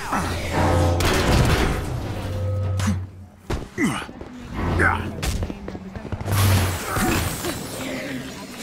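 Gunfire and blasts ring out in Marvel's Avengers, loud bursts of shots and whooshing impacts arriving in uneven waves with short quieter gaps, mixed with voices and other combat effects.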